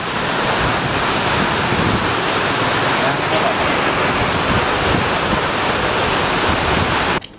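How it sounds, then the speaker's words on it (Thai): Strong wind and heavy rain roar steadily and loudly as a dense, unbroken wash of noise close to the microphone, buffeting it throughout, during a stormy night in Chiang Mai. "มีฝนตกลมแรงมาก"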